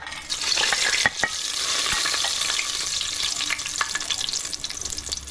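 Whole spices such as cinnamon frying in hot oil for beef sukka, a sudden rush of close crackling sizzle with a few sharp taps against the pan, continuing steadily.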